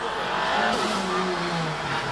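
A Peugeot 205 GTI races up the Prescott hill climb, its engine note rising and falling steadily under a broad, loud roar. It sounds fairly close, with a faint squeal of tyres.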